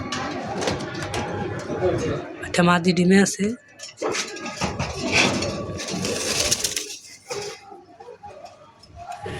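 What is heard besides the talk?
pigeons cooing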